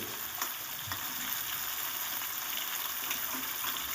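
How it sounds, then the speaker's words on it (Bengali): Steady, dense sizzling of small carp fry frying in oil, continuous crackle throughout with a few faint clinks of stirring, no voices. "অল্প অল্প করে মাছ দিয়ে আমি ভেজে নেব"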